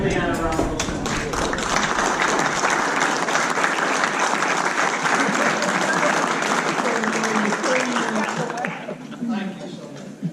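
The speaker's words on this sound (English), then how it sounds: "please stand and give Leon a round of applause" Meeting audience applauding with sustained, dense clapping that fills the room for about nine seconds before tapering off, with voices mixed in underneath.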